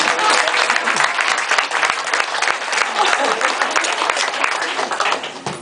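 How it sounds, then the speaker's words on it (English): A room full of people claps steadily and loudly for several seconds, dense applause that tapers slightly at the end. "So a round of applause for them."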